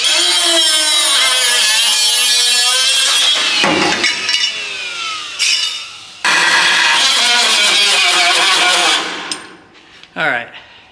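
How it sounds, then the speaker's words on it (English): Grinder cutting out a steel car body panel, a loud, harsh screeching whine with shifting pitch that breaks off briefly twice and then tapers into clunks near the end, heard close up. "So we're just going to cut it out with a grinder."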